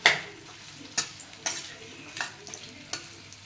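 Dates roast in ghee in a pan while a spatula scrapes and stirs in sharp, evenly spaced strokes, each with a soft sizzle underneath, close and fairly quiet.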